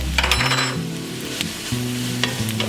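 Garlic sizzles steadily in a hot cooking pan, a close continuous frying hiss with a low humming tone underneath, while a spoon scrapes and stirs now and then.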